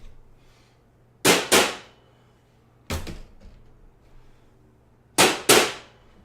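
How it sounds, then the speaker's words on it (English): Loud hollow thuds of metal bread pans filled with banana bread batter knocked on a counter, mostly in quick pairs, three bursts separated by quiet pauses. "I like to give my breads a little tap."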